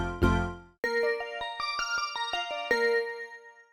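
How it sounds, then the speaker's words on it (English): A bell-style patch on the Altera Keys electric piano keyboard plays a quick sequence of bright, ringing notes with a sharp attack and a short decay. The notes are clear and close, with no other sound. "This is probably more useful for something like a bell style sound like this."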